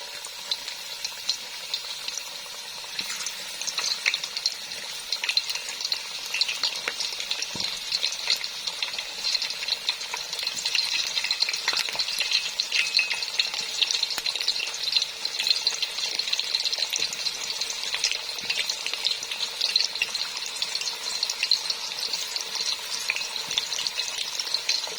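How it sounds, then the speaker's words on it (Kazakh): Potatoes fry in hot oil with a dense, even sizzle and crackle that holds steady and close for the whole stretch, with no talking. "Қызып тұрған майға картошкамызды қуырып аламыз."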